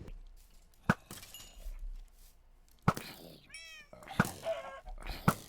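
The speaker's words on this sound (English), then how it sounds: "no one said I would have to take care of this cat" A cat in the Minecraft video game meows a few times at moderate distance, with sharp clinking clicks scattered between the calls and no talking.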